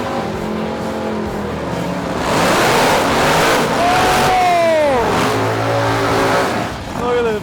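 Supercharged Buick race car at the GS Nationals drags race engine, loud and close, with rising revs and screeching tires, while voices talk over it.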